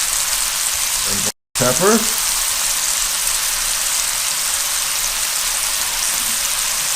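Garlic mushrooms sizzle steadily in a pan over medium-high heat, a loud continuous hiss and crackle broken by a moment of silence, with a voice speaking briefly over it.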